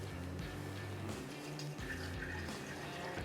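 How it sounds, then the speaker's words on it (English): Strained, miso fat-washed bourbon is poured back into a bottle, a soft, continuous trickle and gurgle of liquid filling glass, quiet and close. "Now we're gonna pour back into our home-based bottle."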